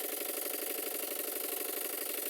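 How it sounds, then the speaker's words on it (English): An old steam engine powering a steam pond launch that is in poor condition, running fast with a steady, even mechanical chuff and clatter that repeats quickly and stays at a constant level. "The engine seems to make a very good noise"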